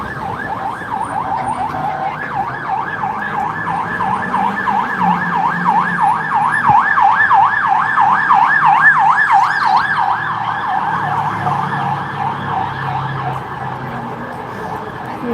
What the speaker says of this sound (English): Never a good sign to hear the sirens.